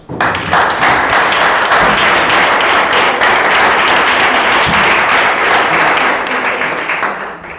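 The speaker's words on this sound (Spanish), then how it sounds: "Aplaudimos." An audience at a theatre or performance talk applauds, loud, dense and sustained clapping from a nearby crowd that fills the whole stretch before easing slightly at the end.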